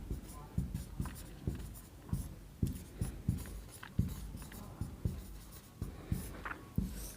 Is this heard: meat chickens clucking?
no